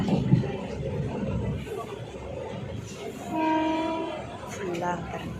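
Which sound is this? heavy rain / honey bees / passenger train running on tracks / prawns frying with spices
passenger train running on tracks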